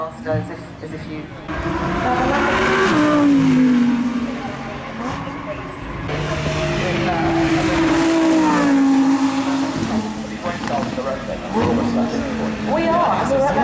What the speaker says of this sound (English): Lamborghini Huracan STO launch control.